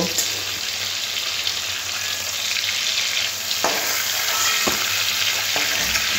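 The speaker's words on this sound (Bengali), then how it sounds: "বাকি চিংড়ি মাছগুলো একইভাবেই ভেজে নেব" Prawns fry in hot oil with a loud, constant hissing sizzle, and a few sharp clacks of a utensil against the pan break through near the end.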